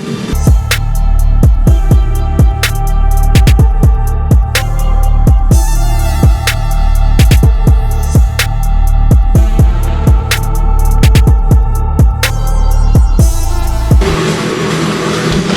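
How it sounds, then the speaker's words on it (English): A wrench works a 15 mm bolt loose from the transmission case of a Dodge Neon SRT4 during an in-car gearset replacement. Close, loud ratcheting clicks come in uneven bursts over a steady background hum. "So let me get a wrench and we'll get that guy off"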